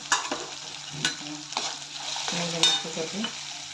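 Green chillies and radish sauté in oil with turmeric, stirred with a spoon in a few scraping strokes over a low, steady sizzle, close and moderately quiet, with no talk.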